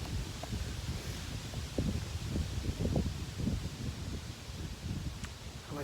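Brutal wind buffets the microphone outdoors on a small game hunt, a constant low roar mixed with rustling leaves and a few crackling bursts, no voices.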